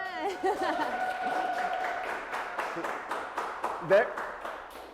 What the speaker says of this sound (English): There's proof we have a live audience. We got some clapping in the background.